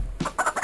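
A chicken clucks in a few short, close bursts, quick and fairly quiet.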